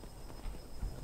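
Horse hooves clip-clop softly in Skyrim, a few slow, uneven hoof knocks at a walk, faint and fairly close, over a quiet windy background.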